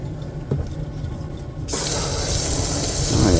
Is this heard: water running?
yes